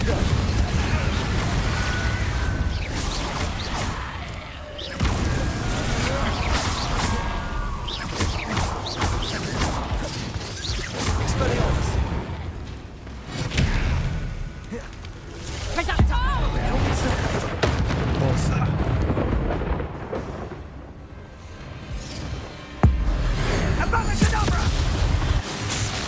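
Repeated Confringo fire-spell blasts in the video game Hogwarts Legacy, loud booms and crashes arriving in irregular bursts over continuous game action, with a voice talking throughout.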